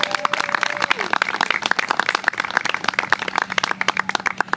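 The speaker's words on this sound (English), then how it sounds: "So let's give them a round of applause." Applause at a recognition ceremony for a university women's soccer team, made up of many sharp, fairly close hand claps in a dense, uneven patter that carries on for the whole stretch.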